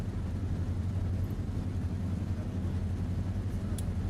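A vintage aircraft engine running at a fly-in gives a steady, low, muffled drone that holds evenly for about four seconds, with no talk over it.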